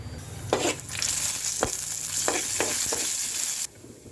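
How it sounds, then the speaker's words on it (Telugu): Spices tempering in hot ghee in a pan, with dried red chillies, chana dal, urad dal and mustard seeds, give a bright continuous sizzle broken by several sharp crackles and pops, close and loud, ending abruptly. "తాలింపు వేసుకుందామండి నెయ్యితో తాలింపు అండి"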